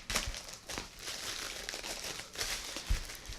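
Tape being peeled off the side of a beer bottle to free a tag underneath, a close, steady crinkling and crackling with a few sharper tearing bursts, no talking.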